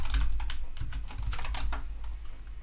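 Keys clatter rapidly on a Mac computer keyboard as a pip3 command is typed, a dense run of close, crisp keystrokes with no voices.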